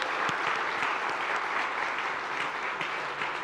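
Dense, steady applause from a seated audience at an awards event honouring farmers, greeting Tushar as he comes to the stage; a continuous wash of many hands clapping at moderate distance.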